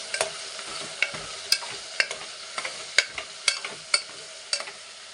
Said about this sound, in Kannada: ಇವಾಗ ಮಸಾಲೆ ಹಾಕ್ತಾಯಿದ್ದೀನಿ. ಇದೆಲ್ಲ ಒಂದು ಸ್ವಲ್ಪ ಫ್ರೈ ಆಗಬೇಕು.